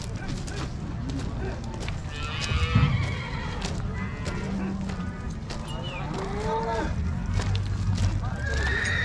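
Horses and cattle at a rural livestock bazaar make a busy pen soundscape. Neighs and whinnies rise over lowing cattle and hoof clops, with people talking throughout and the animal calls scattered near and far.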